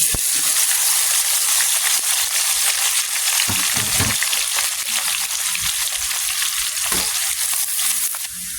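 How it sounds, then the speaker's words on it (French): Meat browns in hot oil for a tomato and broken-rice stew, producing a loud, steady hiss and sizzle close by, broken by a few low knocks and stirring sounds, with no speech. "Nous faisons d'abord revenir"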